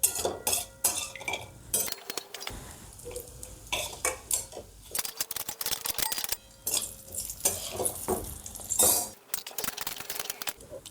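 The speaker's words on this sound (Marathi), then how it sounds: "आपण त्यामध्ये आपण लाल मिरच्या टाकून घेऊ आणि याच्यामध्येच थोडं आपण खोबरं परतून घेऊया" Red chillies and coconut sautéed in oil, busy metallic scraping and clinking of a spoon against the pan in quick irregular bursts over a light sizzle, close and loud, with brief pauses.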